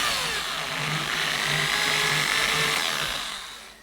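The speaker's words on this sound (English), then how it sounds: "come in with the drill again and just drill the holes" A power drill bores holes through a model railway point for the frog wire, a steady continuous whine held for several seconds before tapering off at the end.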